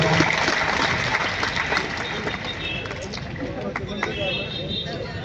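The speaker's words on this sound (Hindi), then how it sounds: "एक खुले हाथ से तालियां बजाएं बच्चों के लिए।" A gathered crowd applauds schoolgirls during a photo session at a kabaddi event, steady dense clapping mixed with crowd babble and voices throughout.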